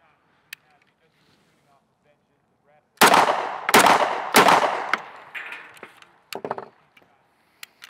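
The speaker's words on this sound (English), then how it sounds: "45 caliber, unsuppressed." Unsuppressed .45 caliber handgun fired in a rapid burst of loud, sharp cracks with ringing echo, followed by a few scattered later shots after a quiet start.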